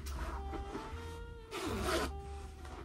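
A zipper is pulled along a jacket crocheted from a blanket, two quick rasping zips close to the ear separated by a pause, over a faint steady background hum with no talking.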